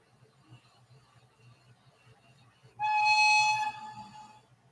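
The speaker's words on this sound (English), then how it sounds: "Now the whistle's loud." A model train's whistle blows one loud, steady, bright tone for about a second, then fades out. Before it, only a faint low mechanical hum is heard.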